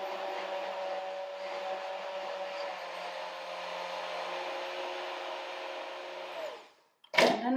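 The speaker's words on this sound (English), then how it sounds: "the blender or the mixer will mix it or shake it for you" A blender whirs steadily as it mixes ceremonial cacao, a close, even motor drone with a faint hum, running for about six and a half seconds before cutting off, followed by a brief clatter.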